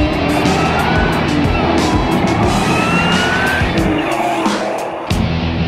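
Ford Mustang launching in a drag race, a loud roaring engine with squealing tires building and shifting, close and continuous before a brief drop near the end.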